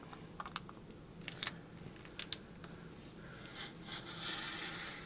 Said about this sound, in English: Now we're going to come in with the red blade, and we're going to cut all along that edge.